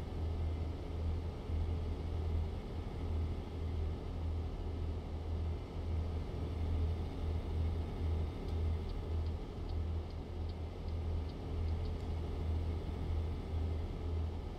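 A deep, steady truck engine in American Truck Simulator rumbles continuously at idle, loud and unchanging, with faint ticking high above it.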